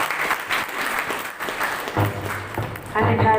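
Students and teachers applaud at a school Environment Day event, a steady wash of clapping throughout with voices mixed in and a louder swell near the end.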